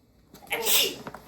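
One short indoor sneeze, a quick sharp burst with an inhaled lead-in, heard close and fairly loud during a garden worm vermiculture setup, with faint rustling after.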